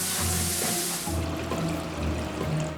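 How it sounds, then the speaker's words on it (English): Shower water pours straight down onto a drain, a steady close splashing hiss that lightens and thins after the first second, with no voices. "why don't we run the shower, let the shower fall right on top of that drain"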